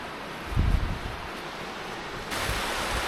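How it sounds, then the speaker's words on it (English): A waterfall in snowy Norway rushes as a steady, broadband roar of falling water, moderately loud and continuous, with a brief low thump early on and no voices. "there are waterfalls like this everywhere in Norway"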